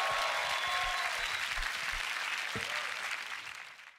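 Loud applause from a crowd at a Grand Beatbox Battle event, steady and dense throughout, tapering off toward the end.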